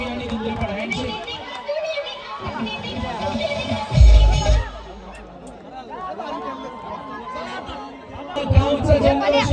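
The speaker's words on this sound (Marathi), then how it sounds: "गावचा जल्लोष" Village crowd celebrating on the cricket ground after a local team's match win, a dense babble of cheering voices and children with a loud burst of shouting around the middle and again near the end.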